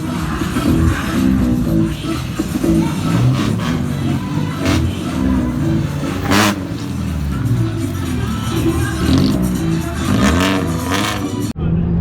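Car lapping a track at a motorsport event, engine droning steadily and revving through gear changes, loud and close, with crowd murmur and voices underneath.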